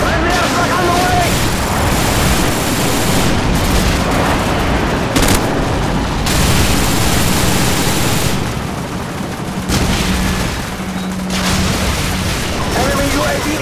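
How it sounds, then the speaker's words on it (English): Friendly airstrike explosions in Call of Duty 4 on PC, a dense, loud wash of booms and gunfire rumbling continuously through a team deathmatch, with bursts layered over constant battle noise. "Friendly airstrike on the way!"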